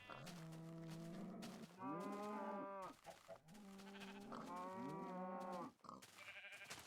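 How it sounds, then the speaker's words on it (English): Sheep in Minecraft bleat in two long wavering calls, close and fairly loud, with brief pauses and no talking. "Sheep can now eat grass to regrow their wool"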